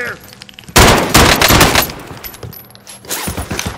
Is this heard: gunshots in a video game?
yes